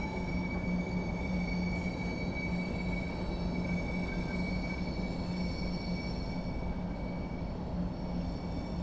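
A Class 90 locomotive hauls a freight train from Carlisle to Wembley in a train simulator game, a steady loud rumble of rolling wagons with a faint high wheel whine throughout, no voices.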